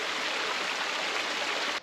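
A creek runs over rocks in a steady, dense rush of water, loud and close throughout before cutting off abruptly at the end.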